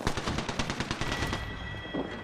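Rapid automatic gunfire from above in the video game Apex Legends rattles in a fast burst, then gives way to a lingering ringing tone and scattered distant shots.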